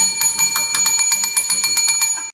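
A small tap bell is struck rapidly over and over, with about a dozen quick, loud metallic dings blurring into a continuous ringing, close up and with no voices.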